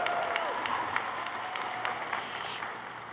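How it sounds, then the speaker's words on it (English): An audience applauds at a law school graduation, a continuous crowd of clapping hands with some sharper individual claps standing out, sustained at a moderate level throughout. "So let's give them both a round of applause."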